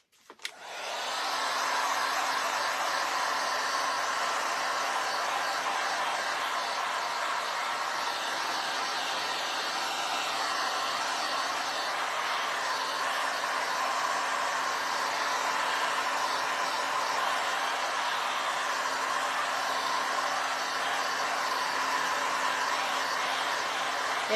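A handheld blow dryer switches on and runs at a steady, loud whirring roar while drying a freshly painted surface, the airflow hiss holding constant for the whole stretch with no talking.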